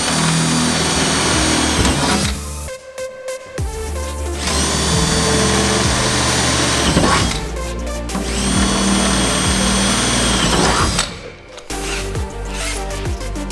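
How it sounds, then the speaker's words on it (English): A power drill whines loudly and continuously in long bursts, pausing briefly between runs, with a grinding, rattling edge as it bites through paper and metal. "I kind of enjoy the destruction of drilling straight through it with everything."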